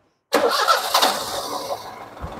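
A Perodua Viva 850 car engine cranks and catches after a moment of silence, then settles into a loud, rough running idle close by.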